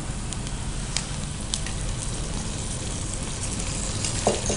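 Onions and ginger-garlic paste frying in a pan for Golkonda chicken pulao, a steady, moderately loud broadband sizzle with faint crackles and a brief clink near the end, no talking.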